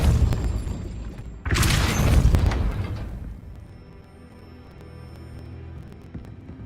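A Depulso force spell in Hogwarts Legacy lands as a sudden loud whooshing burst with a booming impact, then fades into quieter ambient game sounds.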